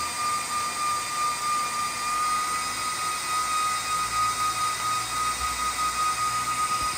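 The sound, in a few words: server GPU fan running at full speed, ESP32-controlled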